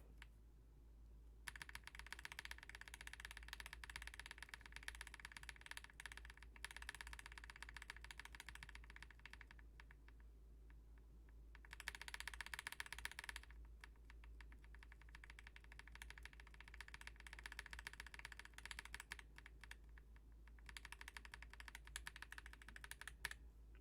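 Bursts of steady, fast typing on a mechanical keyboard fitted with lubed linear switches, Blue Velvet and NovelKeys Cream stems, close and clear with short pauses between runs and no talking.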